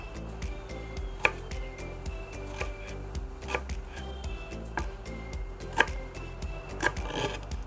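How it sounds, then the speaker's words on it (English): A knife cutting fresh turmeric on a board in a home kitchen, a series of irregular, close chopping taps with a few sharper, louder strokes over a low background hum. "Aunty wanna start cutting this turmeric"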